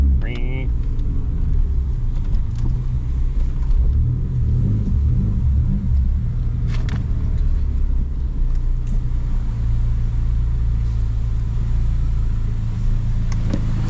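A 2004 PT Cruiser 2.4L engine idles with a steady low rumble and a raspy, puttering exhaust note from an exhaust leak, heard up close with some faint background noise.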